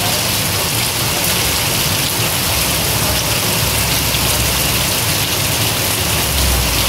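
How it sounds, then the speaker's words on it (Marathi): Heavy rain pours down over Deglur town, a loud, dense, unbroken hiss and patter on surfaces that holds steady throughout. "पाऊस वाढतो आहे पहा आपण"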